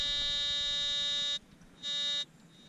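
A Harbor Freight metal detector emitting a loud, steady electronic buzz, sounding for over a second, pausing briefly, then buzzing again in a shorter burst before cutting off.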